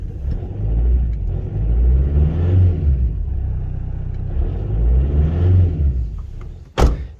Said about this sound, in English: it's one cylinder just died by itself